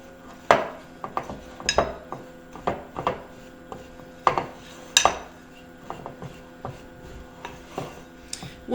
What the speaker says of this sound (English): next I'm going to pour in my buttermilk, and I just want to get it mixed together.